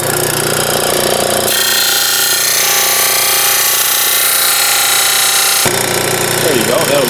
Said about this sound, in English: sand what's left of that plywood off of here very carefully with this disc sander